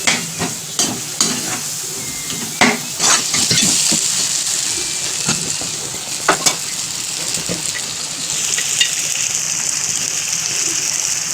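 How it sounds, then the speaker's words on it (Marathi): Tomatoes cook in a pan for Maharashtrian-style brinjal bharta, with steady frying sizzle and several distinct scrapes and clacks of a spoon stirring through them, close and alone. "टोमॅटो, आता हे चांगलं एकदम मस्तपैकी शिजवून घ्यायचं आहे."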